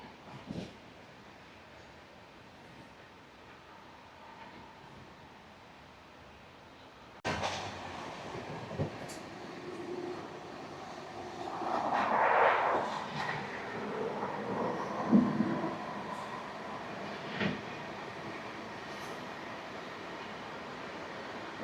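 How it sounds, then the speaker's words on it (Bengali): A train rolls into Naihati Junction at night with a deep, steady rumble that swells and then eases, punctuated by a few metallic clanks and knocks. "একদম সঠিক সময় আমাদের ট্রেন এসে দাঁড়িয়েছে নৈহাটি জাংশনে"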